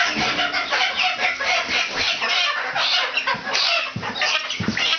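Hens clucking in a backyard flock, a busy overlapping chorus of short clucks and murmurs, fairly close and continuous throughout.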